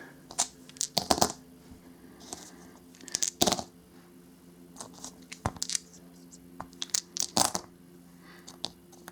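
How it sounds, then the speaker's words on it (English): Action dice for the Teenage Mutant Ninja Turtles board game rolled and rattled across a table, several sharp clattering bursts spread over the clip with brief pauses between them, close and fairly quiet. "So beginning of turn 1, rolling out action dice."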